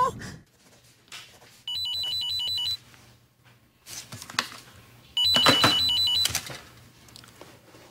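An old-style telephone bell rings in two separate bursts, each about a second long, with quiet room sounds and brief noises between them.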